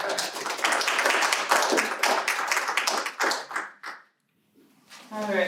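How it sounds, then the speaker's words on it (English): Audience applause at the close of a presentation, dense overlapping claps with a few voices mixed in, fading out and briefly dropping to silence before another burst of sound. "People, please promise to prepare a pretty passionate applause for prosperity"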